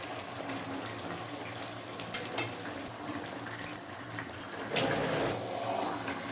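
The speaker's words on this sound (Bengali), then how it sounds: "এবার আমি মাংসগুলো দিয়ে দেব।" Mutton pieces going into a pan of frying spice paste of cumin, ginger, chili and coriander, giving a steady close sizzle with a louder hissing burst about halfway through.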